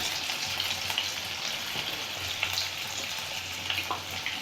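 Banana chips deep-frying in hot oil, a dense, continuous bubbling sizzle with faint crackles throughout, close and steady with no talking.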